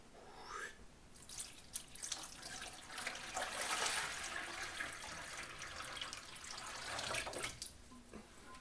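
Water pours and splashes into a Garrett Super Sluice plastic gold pan, a steady, faint trickling and gurgling stream that swells and eases over several seconds, with no voices.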